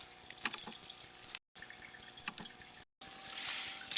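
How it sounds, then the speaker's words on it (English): Water trickles and drips steadily at low volume, with a few brief cutouts and a brighter splashing rush near the end. "we've got some more water running"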